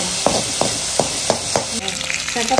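Coconut frying in a pan for homemade oil gives a loud, constant sizzle, broken by a regular series of stirring scrapes about every third of a second.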